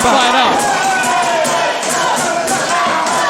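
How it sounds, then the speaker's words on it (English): A wrestling crowd roars and chants at an EAW Caged Warfare event, a loud, dense wall of voices and cheering that holds steady for a few seconds with no clear break. "It's the crowd chanting."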